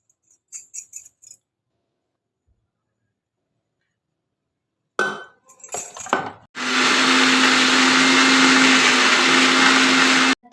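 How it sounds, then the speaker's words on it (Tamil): A few brief clinks and rattles, then a loud electric mixer grinder blending leaves, aloe vera gel and oil roars into a steady high-pitched grind, continuing without pause until it abruptly stops. "மிக்ஸி ஜாரில் போட்டு அரைச்சிக்கலாம் ஃப்ரெண்ட்ஸ்"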